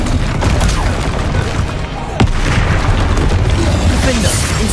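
Spell blasts from Incendio and Confringo in Hogwarts Legacy, a dense, continuous run of booming bursts and crackling impacts with one sharp hit partway through, loud and layered over constant combat noise.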